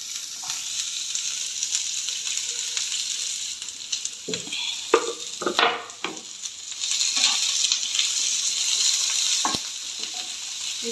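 Onions frying in oil in a pan for a spicy fish sambar, a continuous close hiss and crackle with a few brief stirring clatters partway through.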